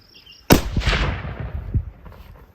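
A single loud, close rifle shot from a .338-378 Weatherby firing a 250 grain Speer Grand Slam bullet over H4831 powder, a sharp blast followed by a long rolling echo that decays over about two seconds.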